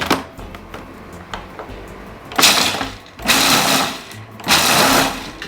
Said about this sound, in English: into the food processor, you want 4 ounces of pecans